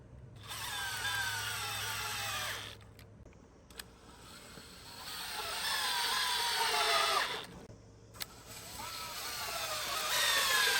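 A power drill drives sturdy lag screws to secure a Vevor hose reel mount, whirring up in three separate bursts of two to three seconds each, with short pauses between them.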